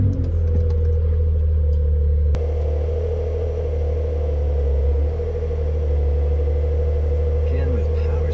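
Porsche Carrera S driven slowly around the block: a steady low engine rumble and road drone from inside the car, continuous and moderately loud, with a brief knock partway through.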